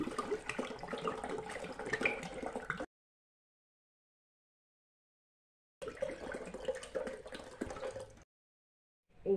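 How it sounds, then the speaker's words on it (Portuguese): A liter of water poured into a cooking pot, a steady splashing gush in two separate pours divided by silence, heard close and with no talking. "Água. 1 litro d'água."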